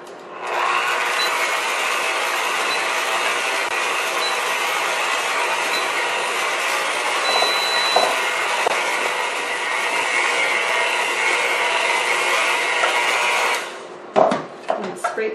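Electric mixer beating thick hot milk cake batter with flour, salt, baking powder and vanilla, a steady high whirring drone for about thirteen seconds before it switches off and a few clinks follow.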